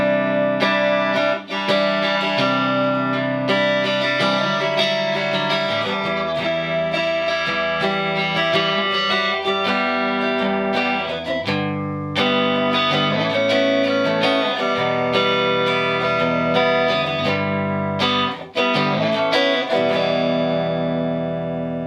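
Electric guitar played through a Mesa Boogie Rectifier Roadster amp on channel 2 in Brit mode, EQ, volume and gain near noon, sounding as loud, mildly driven chords and strummed phrases with short pauses, no talk.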